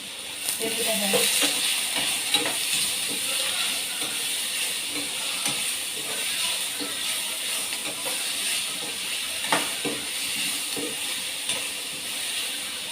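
Onions and seasoning sautéing in a pan for a potato dish, a steady soft hiss with faint scraping and stirring clicks running throughout.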